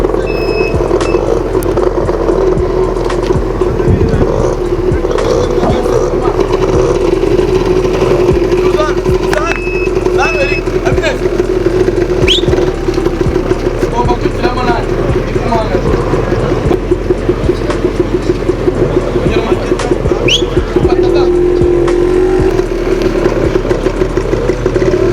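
A learner car's engine drones steadily while the car is driven through traffic during a driving exam, shifting up through the gears toward fifth. A person talks over it throughout, with occasional faint clicks and knocks.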